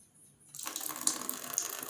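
During jala neti nasal cleansing, water streams out of the nose in a steady trickling, splashing flow that starts abruptly after a quiet moment and continues close and moderately soft.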